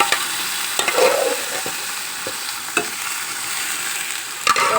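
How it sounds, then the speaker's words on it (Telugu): Boiled gongura leaves fry with onions in a pan, giving a loud continuous sizzle broken by several sharp scraping knocks of stirring. "ఈ పారి ఉడకబెట్టి పెట్టుకున్న గోంగూరని మనం ఇంట్లో వేసుకోవచ్చు"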